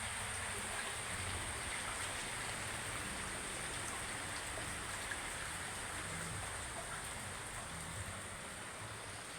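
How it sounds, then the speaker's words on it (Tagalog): Heavy typhoon rain pours steadily behind a house, a dense continuous hiss of drops hitting surfaces, even and unbroken, with no voices. "Masyadong malakas ang ulan guys kasi nga may bagyo."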